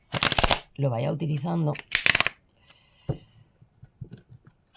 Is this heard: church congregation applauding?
no